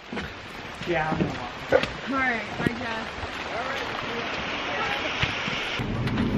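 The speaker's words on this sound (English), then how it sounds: "It's raining hard." Heavy rain pours down steadily outdoors, a dense wash of sound with some louder bursts, while people talk over it nearby.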